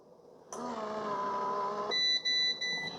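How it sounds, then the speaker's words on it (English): A Breville Grind Control coffee maker gives a short run of electronic beeps as brewing finishes, bright repeated tones following a steady hum from the machine, close and clear in a quiet kitchen. "Now it does beep at you, but you can turn those beeps off in the menu setting."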